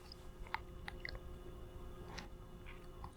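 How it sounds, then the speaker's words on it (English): Crunchy nuts being chewed during mindful eating: a few faint, scattered crunches and clicks close to the mouth over a low, steady background hum, with no talking. "as I was chewing, I could feel the texture of the nuts in my mouth, the crunchiness"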